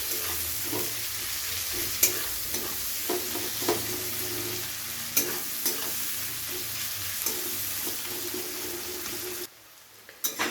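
Chopped onions frying in oil for a katla fish curry, a continuous crackling sizzle broken by repeated spatula scrapes and taps against the pan, then a sudden drop to near quiet just before the end.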